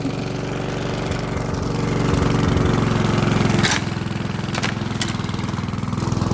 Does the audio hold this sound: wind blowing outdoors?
no